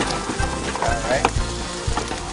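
Peppers hit a hot pan with a soft sizzle and a few dull thumps and scrapes, fairly quiet and brief.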